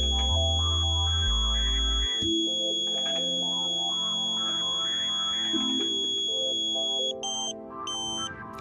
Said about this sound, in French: Vous devez entendre la tonalité baisser une deuxième fois.